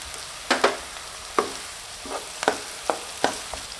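Onion, chili and ginger-garlic paste sizzle in a pan for pav bhaji while a utensil scrapes and stirs, giving irregular bursts of crackling every half second or so.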